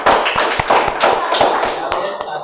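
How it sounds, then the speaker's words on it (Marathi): Students clapping together in a classroom during a math game, a burst of quick sharp claps that swells for a couple of seconds and then thins out. "टाळ्या."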